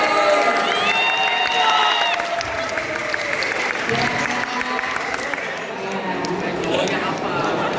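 An audience at a public speaking class claps steadily throughout, with a few cheers and voices mixed into the applause.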